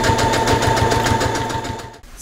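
Sewing machine running a side seam on a baby skirt, a fast even mechanical chatter of the needle close and loud, stopping abruptly near the end.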